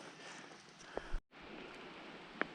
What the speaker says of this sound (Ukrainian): А дощ не перестає. Добре, хоч не дуже рясний.